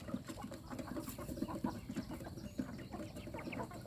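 Young backyard village chickens raised on herbal feed cluck repeatedly in a soft, busy chorus, several birds close by with irregular short calls.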